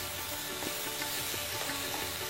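Sliced banana stem fries in a pan with a soft, continuous sizzle. Light, irregular scraping of a stirring utensil sounds close by.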